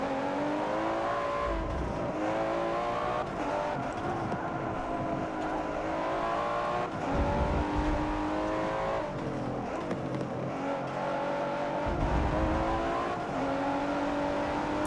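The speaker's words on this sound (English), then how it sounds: "I like fishtailing the super tight turns and just downshifting and letting all-wheel drive just rocket me out of the turn" A Liberty Walk GTR race car in Forza 7 roars close and loud the whole time, its engine note rising and falling through repeated downshifts and revs, with brief tire noise as it slides through tight turns.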